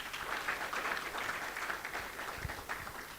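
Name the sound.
audience applause for Andrew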